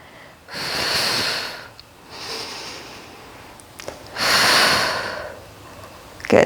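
Breathing during a beginner Pilates exercise: two long, airy exhales and one audible inhale, near and clear, separated by quiet pauses and a few small sniffs.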